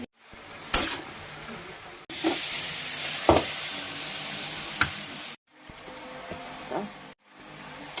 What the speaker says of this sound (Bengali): এগুলি আমার গাছের টাটকা কুমড়ো শাক, কেটে এনে আমি ভাজা দিচ্ছি।